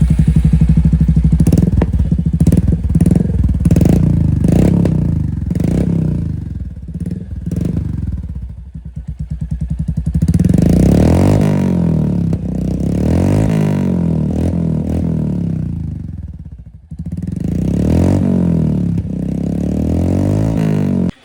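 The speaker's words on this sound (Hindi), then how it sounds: "एक बार सुनते हैं इस एग्जॉस्ट की साउंड।" A Royal Enfield Hunter 350 motorcycle with a direct-fit aftermarket exhaust revs loudly and repeatedly, sharp throttle blips climbing and falling, then longer rising revs with a rough, throaty exhaust note, very close.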